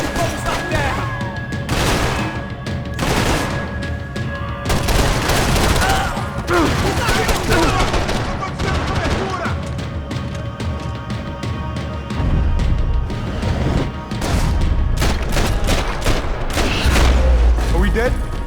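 Heavy bursts of gunfire from Max Payne 3 crackle and boom repeatedly through a loud firefight, mixed with crashes and shouted voices in Portuguese.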